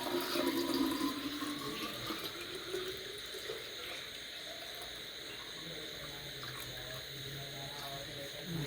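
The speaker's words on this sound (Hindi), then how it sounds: "तो अभी मैं इसमें थर्मस में पानी डाल लेती हूँ।" Water poured by hand into an open thermos bottle, a steady trickling pour that is loudest at the start and then settles into a continuous, moderately close flow with faint background hum.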